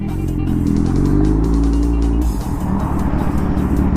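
A yellow car with a modified, cut exhaust passes close by, its loud engine roaring steadily and then dropping in tone as it goes past, with no talk over it.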